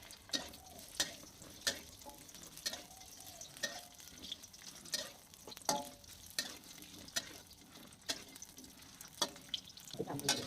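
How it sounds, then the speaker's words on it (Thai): Crispy pork dry-frying in lard in a pan, a soft sizzle with regular scraping and stirring strokes that repeat about every second, fairly quiet and close. "ใส่น้ำมันหมูลงไป"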